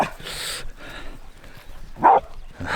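Two dogs play fighting give out short yips and whimpers, a couple of sharp barks standing out near the end over faint scuffling.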